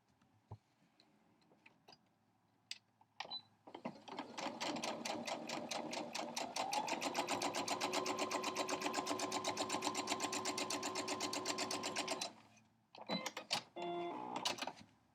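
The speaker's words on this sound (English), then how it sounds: "I'm just going to sew down this edge" A sewing machine stitches fabric scraps together, starting with a few faint clicks and short bursts, then running steadily with a fast, even mechanical chatter and hum for several seconds, stopping, then giving a couple of brief final spurts.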